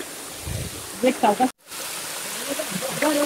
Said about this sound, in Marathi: हा सेकंड धबधबा.